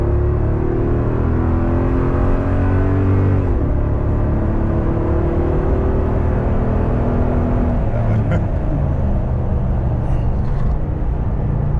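A car pulling away hard from a standstill, its engine droning and rising in pitch through the gears as a loud, continuous in-cabin rumble, with voices over it.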